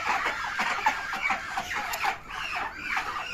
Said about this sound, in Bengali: চীনের হাঁসগুলোকে আজকে ছাড়িয়েছি, দেখুন এরা ডাকাডাকি করতেছে